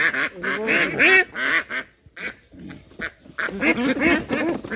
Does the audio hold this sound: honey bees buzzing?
no